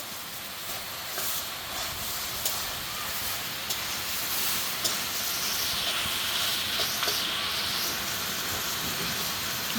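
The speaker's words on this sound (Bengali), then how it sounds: "এখন এই শুটকি মাছ ভাজা শুটকি মাছ দিয়ে দিব" Dried fish (shutki) goes into a hot pan and fries with a loud, continuous hissing sizzle that holds steady, close up.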